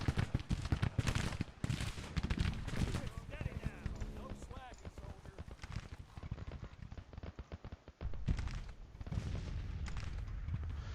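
Gunfire in the Grand Tactician Civil War strategy game: dense crackling musket volleys and scattered shots rolling continuously, loud at first, thinning in the middle, then swelling again, with a voice talking intermittently.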